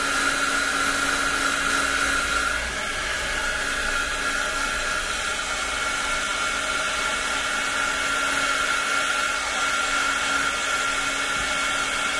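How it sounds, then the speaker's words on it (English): A hot air tool, something like a hairdryer, blows steadily and loudly over a painting made with coffee, a continuous whirring roar that holds a constant pitch for the whole stretch with no talk over it. "I'm gonna use that hairdryer. It's not a hairdryer, I keep calling it that."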